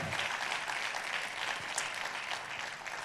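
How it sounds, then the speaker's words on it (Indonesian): A church congregation applauds together in steady, dense clapping that fills the space throughout, with no voice standing out above it. "tepuk tangannya lebih dahsyat buat Yesus Tuhan kita"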